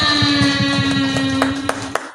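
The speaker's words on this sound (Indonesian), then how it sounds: "Tepuk tangan untuk kita semua" Quick rhythmic hand clapping from pupils at a school orientation assembly at an Indonesian elementary school, loud and close, running over a steady electronic tone, with a few sharper claps near the end.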